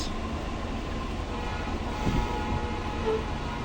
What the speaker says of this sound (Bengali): আলমডাঙ্গা স্টেশন প্রবেশ করবে ট্রেনটি আজকে ব্যাপক বিলম্বে চলাচল করছে লোকোমোটিভ পঁয়ষট্টি পঞ্চাশ